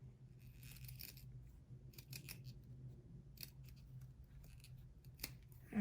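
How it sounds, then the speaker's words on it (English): Scissors trim sewn fabric for a doll's pants, producing soft, irregular snips and rustles in bursts, close and clear with no talking. "Now I'm going to trim along the side, making sure that you don't trim past that opening line."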